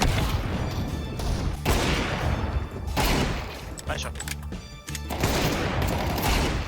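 Rapid bursts of gunfire in Counter-Strike 2, with loud overlapping shots and repeated volleys through most of the stretch and a short lull near the middle.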